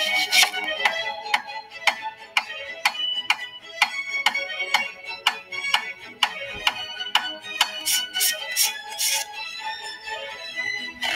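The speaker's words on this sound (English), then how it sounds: "I like the onion coming down a little bit." Onion being chopped in an ASMR cooking video: crisp, evenly spaced knife taps on a board, close and distinct, speeding into quicker bursts near the end, with no talk.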